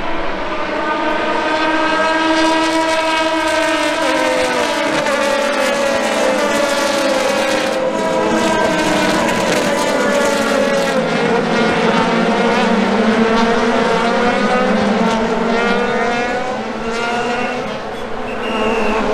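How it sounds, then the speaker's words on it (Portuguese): IndyCar race cars at the 2019 St. Petersburg, Florida street race roar past on a straight, loud sustained engine wail with shifting pitch sweeps as cars pass one after another, no talk. "quando a gente escuta o carro passar assim, um pelo outro, na frente, numa reta"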